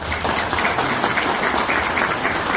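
An audience at a lecture in Villarrica, Paraguay breaks into sustained applause, a dense, even clatter of many hands clapping throughout without pause.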